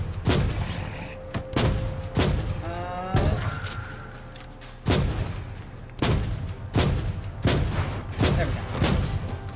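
Heavy, booming shots from the Exodus rifle in Inquisitor Martyr, a slow-firing gun, fire roughly every half second to second in a steady loud rhythm, with a brief spoken line from a player over the shots.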